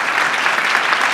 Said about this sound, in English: a warm applause for Mark